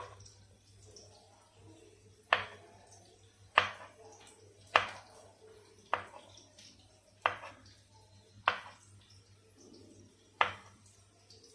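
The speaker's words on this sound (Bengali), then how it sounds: "কলাগুলো স্লাইসভাবে কেটে নিব" A knife slicing two bananas into rounds for a sweet flattened-rice and yogurt dessert, about nine crisp, evenly spaced cuts through the fruit onto a board, close and distinct with a faint hum underneath and no talk.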